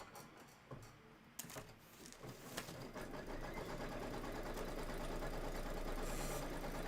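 An embroidery machine tacks fabric down, starting after a few scattered handling clicks and settling into a steady mechanical whir that holds to the end.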